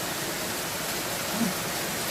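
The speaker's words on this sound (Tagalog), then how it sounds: "grabe lakas ang ulan guys, oh" Heavy rain pours steadily in a dense, continuous hiss, loud and unbroken throughout.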